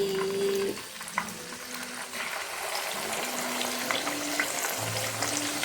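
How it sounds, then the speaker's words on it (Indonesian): Marinated tempeh and tofu (tempe tahu bacem) frying in hot oil with a steady, close crackling sizzle and occasional bubbling pops throughout. "Lanjut guys, kita goreng lagi."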